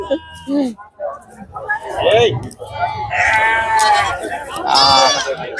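Goat kids bleating repeatedly and loudly at a busy goat market, with overlapping cries close by under a crowd's chatter and people talking.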